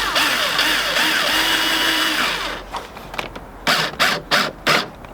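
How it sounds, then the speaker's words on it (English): A car's window crank being spun with a power tool as the window rolls down, a steady whirring grind for a few seconds followed by short separate bursts of mechanical whirring. "it's actually spinning the crank actually. If I can get it to thread, that'd be Oh, this is rolling my window down."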